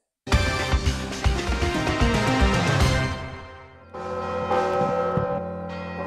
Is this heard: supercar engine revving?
no